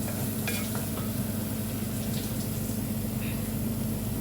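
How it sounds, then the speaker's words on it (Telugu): A chicken mixture with lemon and tomato sauce gets stirred in a pan, a steady soft sizzle and scraping hiss running evenly throughout with a few faint clinks. "ఈ మధ్య టమాటా సాస్ వేసుకున్నాక కొంచెం ఇలా కలబెట్టుకున్నాను"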